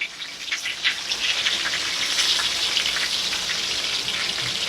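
Crispy feta chicken frying in a pan, a steady close sizzle and crackle of hot oil continuing without a break at moderate loudness.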